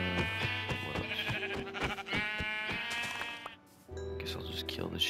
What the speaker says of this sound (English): Sheep, you know.